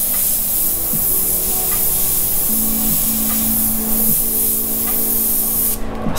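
An airbrush sprays black paint onto a graffiti-style hat in continuous, close hissing bursts, with brief pauses and restarts and no talk.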